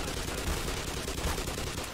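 Rapid gunfire in the video game Black Mesa, a dense continuous burst of shots filling the short moment with no pause, steady and moderately loud.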